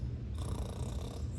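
Snoring sound effect for a storybook about farm animals in a barn, a steady low rumbling purr-like snore filling the whole stretch, loud and close with no voices.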